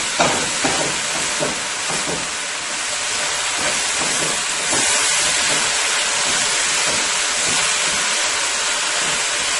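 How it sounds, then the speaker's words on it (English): White belly shrimp frying in a pan with oil: steady loud sizzling hiss throughout, close and continuous with faint crackles. "the first thing I'm doing is to fry my shrimp."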